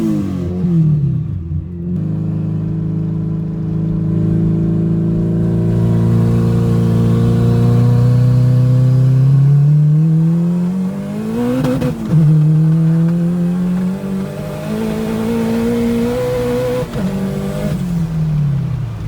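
A race car engine revs hard during a race, loud and close, its pitch climbing through long pulls with brief dips between gear changes.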